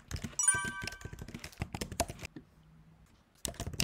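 Keystrokes on a computer keyboard while JavaScript code with backtick characters is typed, a quick run of sharp, close clicks, then a brief pause and a few more taps near the end.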